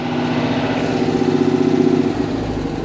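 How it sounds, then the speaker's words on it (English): An air-cooled car engine idles steadily after the choke is pushed in, a continuous even rumble with a slight rise in the middle and no talk. "So she's idling away nicely there."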